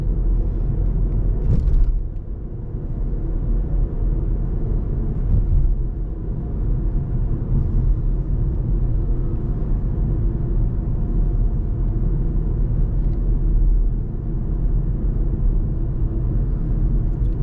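From inside, a car cruises along a road at the speed limit after clearing an intersection, with a steady low rumble of engine and tire noise and a brief brighter swish near the start.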